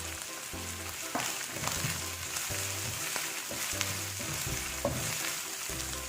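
Fennel seeds and green chillies sizzle and fry steadily in a hot pan while being stirred for a creamy chicken curry, with repeated scraping and clinking of a spoon against the pan throughout.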